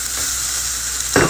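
Spaghetti and meat sizzle in a hot pan under a continuous close frying hiss, with a brief scraping stir near the end.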